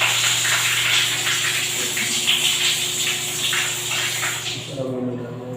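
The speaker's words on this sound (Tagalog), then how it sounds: "Meron silang shower at gripo." Hot water runs steadily from a hotel bathroom faucet, a continuous close hiss and splash that ends near the finish as the flow stops.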